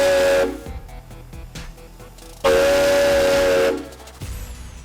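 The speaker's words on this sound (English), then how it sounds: "Now equipped with hydraulic brakes and a larger boiler, Leno's Stanley Steamer has been transformed into a modernized version of the original." A Stanley Steamer steam car, fitted with a larger boiler and hydraulic brakes, gives two loud, sustained steam-whistle blasts with strong hissing, separated by a quieter stretch of pulsing steam.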